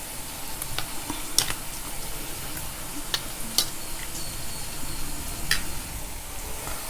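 Mustard seeds and a chili tempering in hot oil, poured over a curd pachadi, a steady close sizzle with scattered sharp pops and crackles, no speech.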